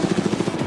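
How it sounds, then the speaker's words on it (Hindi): A helicopter carrying people over a private island, its rotor giving a steady, rhythmic thumping pulse that stays loud and continuous through the short stretch. "ये हेलीकॉप्टर हमारे बॉयज को ऊपर हवा में ले जाएगा"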